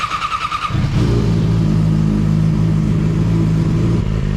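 A Yamaha R6 sport motorcycle engine running close by, with a brief sputter, then a loud, steady, buzzing idle that holds with little change, with no voices.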